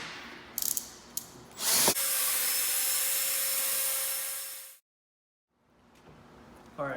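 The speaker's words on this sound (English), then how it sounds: "And what we're going to do is mix this with cordless drill, just on a low speed." A cordless drill mixing epoxy tile grout in a pail at low speed gives a steady, loud motor whine with a grinding churn that runs for about three seconds and then stops abruptly, after a few short clicks and knocks.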